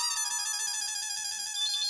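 A phone rings at an electronics shop, an electronic ringtone with steady harmonic tones repeating throughout, fairly loud and alone with no talk.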